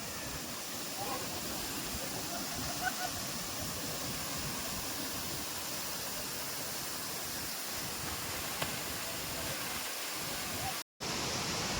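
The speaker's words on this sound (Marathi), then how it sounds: "झाडांच्या मध्ये बघू शकता हा धबधबा आहे आपला" Ukshi Ranpat waterfall among trees in the monsoon, flowing with reduced water, gives a steady, full rushing roar that holds constant throughout, with a brief dropout near the end.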